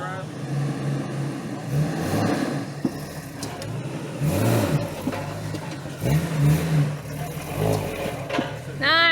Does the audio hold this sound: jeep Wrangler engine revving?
yes